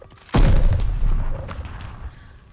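A grenade blows up in the Call of Duty: Vanguard campaign, a single loud, deep boom that hits suddenly and rumbles on for about two seconds before fading out.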